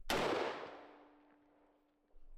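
A single loud shot rings out from a rare AK-variant rifle chambered in 5.56, a sharp close blast followed by a long fading outdoor echo and then quiet.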